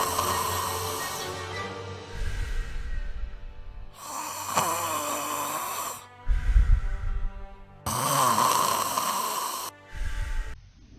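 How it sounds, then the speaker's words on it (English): Snoring caused by the tongue falling back and narrowing the upper airway so the mucosa vibrates, heard as repeated loud rattling breaths of roughly two seconds each with short pauses between them. "the narrowing results in mucosal vibration resulting in a snore"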